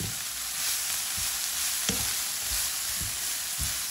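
Sautéed leeks with cumin and turmeric sizzle steadily in a pan as a utensil stirs them in soft, repeated scrapes, close and even.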